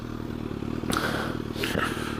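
A 2018 Suzuki GSX-S motorcycle engine idles with a low, steady throb, moderately close, while a couple of short scraping and clattering noises cut across it.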